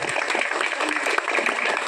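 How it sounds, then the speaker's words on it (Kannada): Applause for a schoolteacher named Rajanna at a village gathering, a dense, steady patter of many hands clapping throughout, with some voices mixed in. "ಅವ್ರಿಗೊಂದ್ಸತಿ ಜೋರಾಗಿ ಚಪ್ಪಾಳೆ ಬರಬೇಕು"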